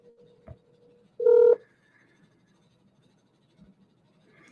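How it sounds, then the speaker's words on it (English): A phone call is dialed: a short, loud electronic tone rings out alone in a quiet room, with faint scratches and clicks before and after it. "Come on, Lips, answer the phone."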